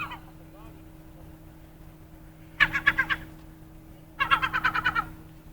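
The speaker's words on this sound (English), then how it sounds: "noisy seagull, eh?" A seagull calls near a big ferry in two loud bursts of rapid repeated squawks, separated by a quiet stretch. A low steady engine hum runs underneath.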